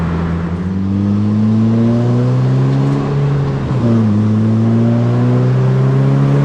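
A K24-swapped Honda Fit pulls hard in third gear into VTEC, its engine note climbing steadily and loudly, dipping briefly at a shift-like break before rising again, heard from close inside the car.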